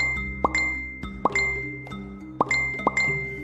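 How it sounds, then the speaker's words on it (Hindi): A short phone notification chime sounds five times in quick, uneven succession, each one a bright plink over a steady low hum. "उसके फोन पर लगातार 4-5 बार नोटिफिकेशन वाली घंटी बजी"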